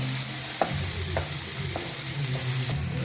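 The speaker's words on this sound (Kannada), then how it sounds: "ನೋಡಿ ಇವಾಗ ಫ್ರೈ ಆಯಿತು ಆನಿಯನ್ನು ಗಾರ್ಲಿಕ್ ಎಲ್ಲ ಫ್ರೈ ಆಯಿತು" Onion and garlic fry in oil in a pan for a fish egg curry, a steady close sizzle with a few sharp spoon scrapes against the pan roughly every half second.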